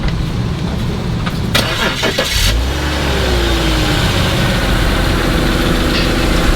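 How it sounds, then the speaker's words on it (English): A BMW X3 engine with a slow-crank problem cranks briefly and catches, then settles into a steady idle with a low rumble that continues to the end. "I'm going to start up the engine"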